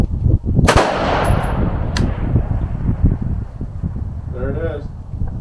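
A gas-operated rifle, the Atibal Hybrid12 SFP, fires a sharp close shot followed by a fainter second crack, with wind rumble and people talking over it.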